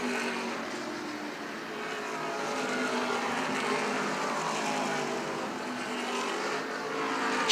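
Race cars roar around the Beech Ridge oval during an MRS 75-lap event, a dense, steady wash of engine noise as cars run side by side through the turns, loud and continuous with no break.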